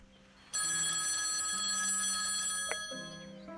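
A telephone rings in the video game Copycat, a clear electronic trilling bell that starts abruptly and holds steady for about two and a half seconds before fading, with a faint background tone and no voices.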